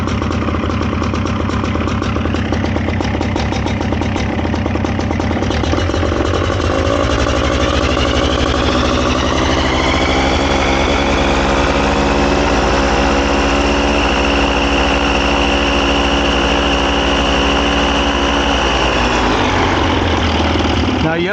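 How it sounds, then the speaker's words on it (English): A Vittorazi Cosmo 300 paramotor engine on a FlyProduct Xenit trike runs loud and close, first with a rough, rapid idle and then rising to a high, steady buzzing whine that holds before dropping back near the end. "the engine's on. Starts right up."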